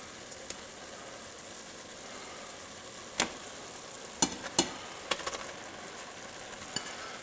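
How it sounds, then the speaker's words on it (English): Melting cheese is stirred into cooked breakfast sausage in a pan, a low constant sizzle broken by a few distinct scrapes and taps of the utensil in the second half, close and quiet, no voices. "this you want to continue to stir while it's melting so that it doesn't stick"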